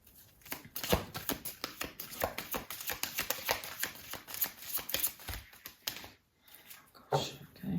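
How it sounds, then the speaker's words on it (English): Stiff tarot cards are shuffled in rapid, irregular bursts of crisp riffling and slapping, close up, with a brief pause near the end. "These cards are really hard to shuffle"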